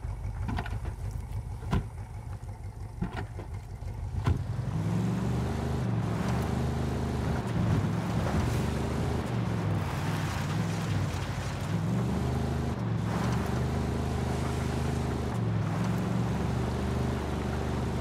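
A vehicle driven in the video game Ghost Recon Wildlands, with a steady engine drone that swells and dips in repeated revving cycles after a few seconds of clicks and ambient noise, loud and continuous with no talk.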